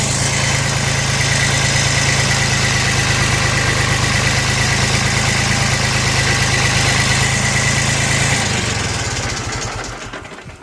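Used Yanmar FX18D four-wheel-drive compact tractor with its engine idling steadily and loudly up close, a constant low throb that runs unchanged for about eight seconds before the engine winds down and stops.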